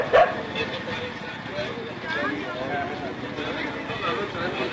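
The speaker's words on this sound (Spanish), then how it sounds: "El perro Nico, güey" A dog barks and yips in short bursts beneath overlapping talk and steady background noise.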